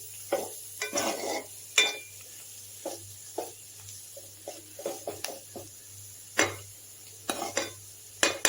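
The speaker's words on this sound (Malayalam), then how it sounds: "അത് നന്നായി വാടി അതിൻ്റെ പൊടികളുടെ ആ ഒരു പച്ചമണമൊക്കെ നന്നായി മാറി വന്നവരെ നന്നായിട്ട് വഴറ്റി കൊടുക്കാം." Onion and spice masala for chicken roast sautés in a pan with frequent spatula strokes: sharp scraping bursts at an uneven rhythm over a faint sizzle and low hum, close up, no talking.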